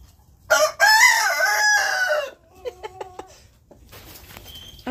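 A rooster lets out a loud, drawn-out crow near the start, then a few short clucks and bird calls follow more quietly with no talk.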